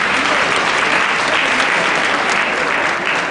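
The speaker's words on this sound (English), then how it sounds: "Can you please give a round of applause?" Dense, steady applause from a church audience fills the hall without a break, loud and close, with no clear voices above it.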